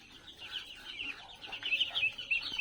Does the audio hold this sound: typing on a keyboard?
no